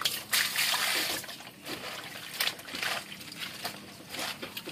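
Water runs and trickles steadily while dishes or food are washed, with splashy bursts and uneven dribbling close by, no talking.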